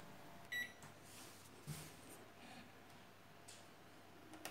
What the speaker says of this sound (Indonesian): mari kita coba microwave-nya apakah bisa berfungsi dengan baik